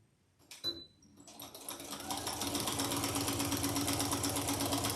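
A few quiet clicks and a brief whir, then a regular sewing machine starts up and runs steadily, its fast rhythmic stitching through a quilt sandwich growing louder and holding.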